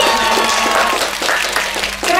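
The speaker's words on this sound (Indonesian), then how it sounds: "Iya, tepuk tangan dulu kali ya." Audience applause breaks out as a steady wash of clapping from a crowd, fairly loud and continuous, with voices talking over it.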